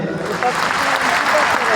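A large crowd applauds new pin achievers at an anniversary event in Indira Gandhi Stadium, Delhi: a broad, sustained wash of clapping from many hands, with a voice speaking over it.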